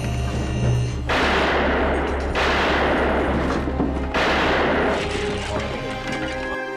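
Three heavy, booming gunshots spaced about a second apart, each a loud broadband blast with a long decaying tail, over a low steady rumble.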